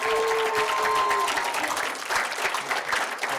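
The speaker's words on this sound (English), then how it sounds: "Give them a round of applause." Audience applause for a New Mexico high school team at a 2019 high school pitch competition, a steady broadband wash of many hands clapping that stays fairly loud throughout, with a faint tonal line early on.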